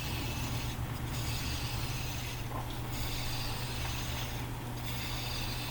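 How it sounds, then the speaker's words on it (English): A maple block spins between centres on a wood lathe while a spindle gouge trues it, giving a steady, continuous rasping scrape with a low motor hum beneath and a few brief dips in the bite. "get it trued up with a spindle gouge"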